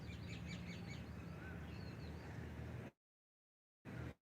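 Birds sing outdoors in the morning with faint, scattered chirps and tweets over a steady background hiss, then the sound cuts out to silence before brief bursts of noise return.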